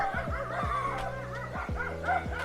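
Several dogs bark and yip in quick, repeated bursts nearby, with some whimpering between barks.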